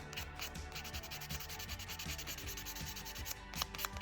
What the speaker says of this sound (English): we will take our buffer and then just finish it, buffing it pretty smooth here